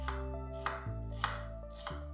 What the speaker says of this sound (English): For the aromatics, I quickly chopped up some onion, garlic, and ginger.